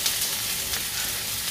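Onion sizzling in hot oil in a pan while vegetables for Korean japchae are fried, a bright steady crackling hiss close up with no talking over it.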